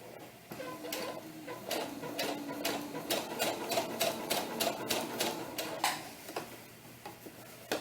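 A sewing machine stitches slowly on a doll tunic with bias tape, producing rapid, close, even ticking stitches in a steady series that slows and ends near the close.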